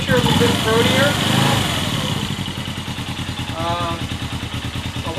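A Suzuki GS500 motorcycle idles with a replacement exhaust muffler, a steady rich, throaty pulsing drone close by, while someone talks over the engine for most of the clip.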